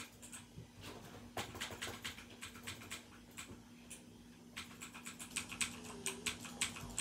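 Typing on a mechanical keyboard with blue switches, crisp clicky keystrokes in quick irregular bursts, close and alone with a faint steady hum beneath.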